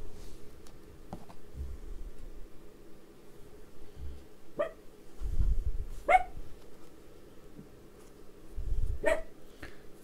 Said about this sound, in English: my dog is in here